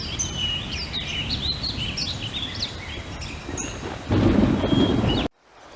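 Rumbling thunderstorm in the Famous Five adventure game, a steady low roar swelling louder near the end before cutting off, with high bird chirps and calls repeating over it throughout.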